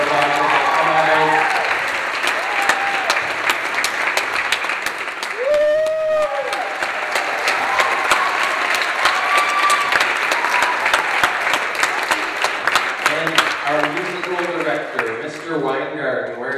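Sustained audience applause fills a hall at a school production prize presentation, steady and dense for over ten seconds, with someone speaking briefly at the start and end.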